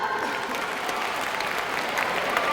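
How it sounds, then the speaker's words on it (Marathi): An audience at a panel discussion on child and parent psychology claps steadily, a dense continuous wash of applause filling the room at close range with no speech over it. "5 मिनिटं असेल तर टाळ्या वाजवा जोरात."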